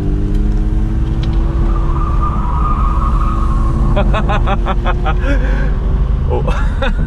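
A 1969 Mercedes W111 250 coupe drives round a roundabout, its engine a loud, steady drone heard from inside the car, with a voice speaking over it in the second half.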